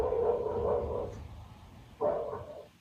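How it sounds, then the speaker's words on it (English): A dog barks in surveillance camera footage, two muffled, low, drawn-out barks about two seconds apart, faint and distant, with no talking. "A dog began to bark,"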